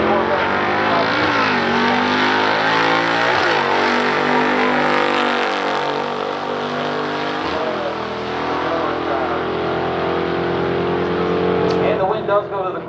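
Corvette and Camaro stock drag race run at Montague, Michigan, with loud sustained engine roar and shifting, the Corvette power shifting, while an announcer talks over it throughout.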